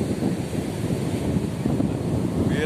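Ocean waves breaking on the beach at Praia Pontal do Ipiranga in Linhares, Espírito Santo, a steady broadband surf roar with wind buffeting the microphone throughout.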